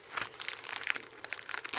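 Packaging for a Wiggles card game being torn open by hand, with quiet crinkling and tearing of paper or plastic in short bursts, close by and with no talk.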